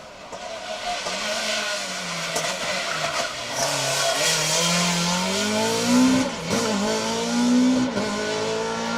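A 2.4 litre Ford Escort rally car on a Manx Rally special stage, its engine note climbing through repeated revs as it approaches and passes close by, loudest toward the end, with crowd and ambient noise behind.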